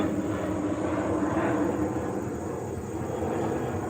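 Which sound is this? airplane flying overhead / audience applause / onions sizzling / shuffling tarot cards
airplane flying overhead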